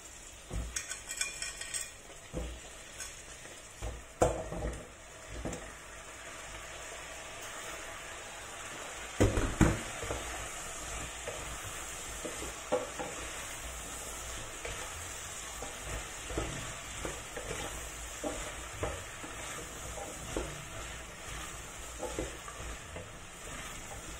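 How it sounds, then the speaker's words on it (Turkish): Pumpkin pieces sautéing in a pot, a steady low sizzle running throughout with occasional clinks and stirring scrapes, louder bursts near the start and around the middle. "Şimdi kabaklarımı kavuracağım."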